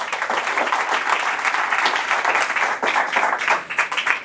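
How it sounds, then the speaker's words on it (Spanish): A church congregation claps continuously in fast, dense applause for over four seconds, steady and fairly loud with a slight swell near the end. "Vamos, denle un aplauso al Señor."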